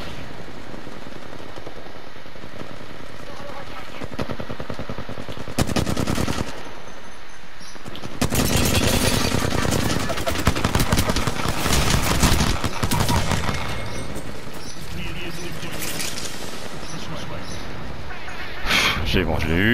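P2020 pistol fire in Apex Legends, rapid bursts of gunshots interspersed with other game weapon fire, loud and dense in the middle section, with someone talking throughout.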